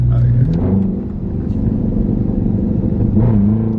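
A 2019 Dodge Charger R/T in sport mode accelerating with paddle shifts, a deep loud engine rumble rising and falling from inside the cabin, continuous for several seconds.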